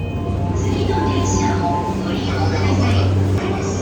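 A subway train moving on its rails through a Tokyo station, with a loud, steady rumble and low droning hum throughout, plus faint squeals of the wheels higher up.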